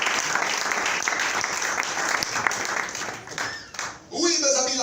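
A church congregation claps and cheers for the Lord in loud, sustained applause filling the space, which fades briefly before a singing voice and organ-like tones come in.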